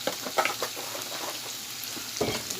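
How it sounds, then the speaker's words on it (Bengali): Green chilies sizzle as they go into a hot frying pan, a close steady frying hiss with a few sharper crackling bursts near the start and again near the end. "অল্প একটু কাঁচা কাঁচামরিচ দিচ্ছি"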